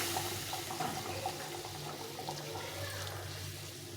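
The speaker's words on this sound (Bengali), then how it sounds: "এই ফুটনো জলটা দিয়ে দেবো" Boiled water poured into a thin fish curry in a pan, a continuous steady rushing splash with a low hum beneath, fairly quiet and close, no talking.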